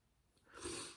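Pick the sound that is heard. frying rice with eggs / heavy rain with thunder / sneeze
sneeze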